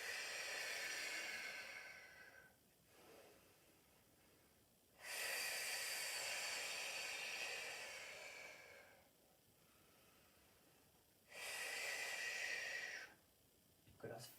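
Heavy, drawn-out exhaling breaths during a held Pilates plank, three long forceful breaths out in a steady rhythm, close to the microphone with no talking over them.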